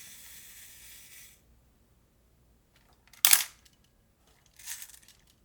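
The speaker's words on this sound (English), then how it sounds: "This is a self-winding timer, so it's a timed release for the shutter if you have it cocked." A steady mechanical whir from a Konica TC-X camera's self-timer winding down, then silence, followed by a sharp shutter click and a second softer mechanical snap.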